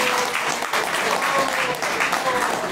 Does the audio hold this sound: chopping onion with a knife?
no